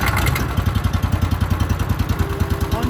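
A farm wood chipper churns loudly with a steady engine-like rumble and rapid rhythmic clatter as material feeds through, close and harsh throughout.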